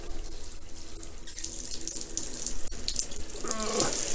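Water sprays steadily from a newly installed shower head into a tub, a dense continuous hiss that grows slightly louder toward the end as the flow is adjusted, with no talking.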